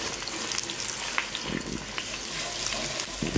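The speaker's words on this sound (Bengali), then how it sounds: "প্যানে একটু তেল দিয়ে নিয়েছি, এখন ডিমটাকে ঝুরা করে নেব।" Egg scrambling in hot oil in a pan gives a constant close sizzle with a few soft stirring scrapes, no voices.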